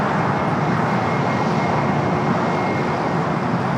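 A Hawaiian Airlines Airbus A321neo jet at Los Angeles airport, its engines giving a loud, steady broadband roar that holds without a break for the whole stretch.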